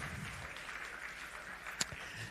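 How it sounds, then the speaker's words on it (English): Faint applause from an audience at a speaking event, a soft continuous patter of clapping for a speaker leaving the stage, fairly distant and low in level. "Ladies and gentlemen, a big hand for Harsha as well."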